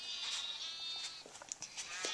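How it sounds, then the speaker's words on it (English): Sheep bleat in Minecraft on an iPad, a string of high, wavering game-animal cries that overlap and repeat close up, with no talk over them. "there's a whole group of baby sheep that I've got to kill"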